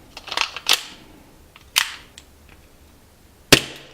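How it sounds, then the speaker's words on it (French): KWC Cybergun M45A1 airsoft pistol firing, sharp snapping cracks: a quick cluster of shots, then two more single shots spaced about a second or more apart, close and loud. "Et on peut vraiment enchaîner les tirs sans souci."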